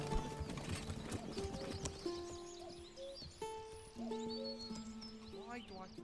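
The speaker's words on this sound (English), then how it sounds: "Let's see where the horse is." Horse hooves clip-clopping in the medieval strategy game Manor Lords, rhythmic hoof steps mixed with game music tones and faint ambient bird sounds, fairly quiet.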